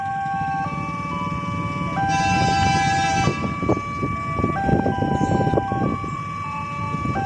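A KRL commuter train approaching a level crossing, heard as loud, steady sustained horn tones that shift pitch in stepped chords over a rumbling background, close by, with no talk.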